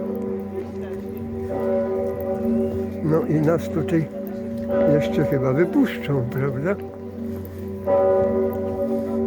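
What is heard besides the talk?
large church bell rung by hand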